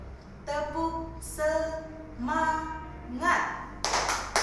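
An Indonesian primary class performs a patterned spirit clap, and a voice chants a rhythmic call before a quick burst of sharp claps near the end.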